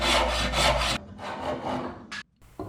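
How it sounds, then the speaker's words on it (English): Close hand sawing down the cheeks of a wooden tenon: a few quick rasping strokes, a softer stretch of cutting, then a brief pause before the saw starts again. "And same thing for sawing down the cheeks."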